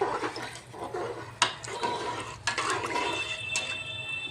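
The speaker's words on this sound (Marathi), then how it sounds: "आता आपल्याला खिचडी शिजण्या इतकं पाणी टाकायचं आहे." Water poured into a pressure cooker of palak dal khichdi, a close, steady splashing gush with a few light clinks of the pot, lasting several seconds with no talking.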